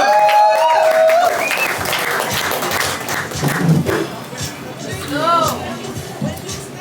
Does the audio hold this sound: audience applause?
yes